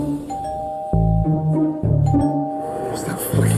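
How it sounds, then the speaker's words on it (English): A restaurant doorbell rings with a repeated ding-dong, two-tone chimes recurring several times, while a voice talks underneath. "What's that fucking doorbell that keeps on going off every 2 minutes?"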